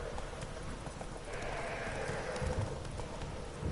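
Roach, a horse in The Witcher 3 video game, gallops with a steady, rhythmic clip-clop of hooves that continues throughout, loud and close, with no talking.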